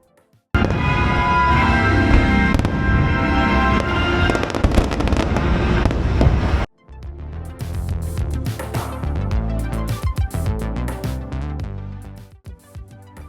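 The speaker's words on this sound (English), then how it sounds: "got a spot to watch two of the most popular fireworks shows, the Hocus Pocus Villain Spectacular and the Disney Not So Spooky Spectacular" Disney Halloween fireworks at Magic Kingdom during Mickey's Not So Scary Halloween Party: loud, continuous booming and crackling bursts, a dense barrage that cuts off abruptly, then resumes with rapid popping and thudding explosions.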